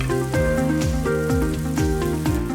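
Curry leaves crackle and sizzle loudly as they go into small onions frying in hot oil, a dense, steady spitting hiss with a faint rhythmic scraping underneath.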